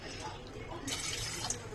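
Water pours into a pot of peas with salt, set to boil on a kitchen stove: a short, faint, steady splashing trickle with no talking over it.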